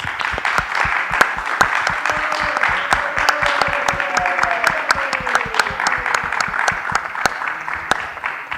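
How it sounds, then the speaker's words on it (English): Audience at a Bhagavad Gita Jayanti talk show at Bhaktivedanta Manor gives a round of applause, continuous clapping with a few sharp, distinct claps standing out and a voice or two murmuring beneath. "Big round of applause."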